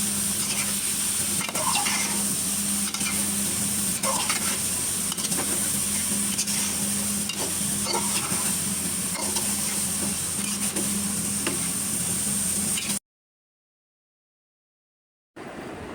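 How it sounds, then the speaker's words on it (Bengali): Vegetables with chili and garam masala are stirred in a hot pan, giving a steady close sizzle with scraping stir strokes at irregular intervals, then a sudden cut to silence before the frying resumes briefly. "মরিচ, গরম মশলা সব কিছু দিয়ে এখন সবজিটা একটু কষিয়ে নেব।"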